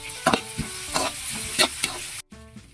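Onion and carrot sizzle steadily in a hot pan while a utensil stirs them in several quick scrapes, close and fairly loud, cutting to a brief silence near the end.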